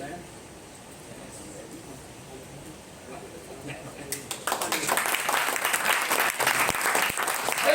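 Audience applause at a talk, starting after a few seconds of quiet room murmur and swelling into loud, dense clapping that continues to the end.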